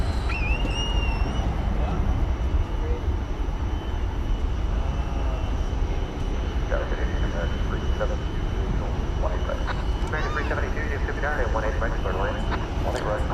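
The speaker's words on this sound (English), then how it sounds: "It's an 8-year-old Dreamliner." An eight-year-old Boeing 787 Dreamliner airliner rumbles steadily at DFW Airport, a broad engine roar that holds throughout while people talk over it.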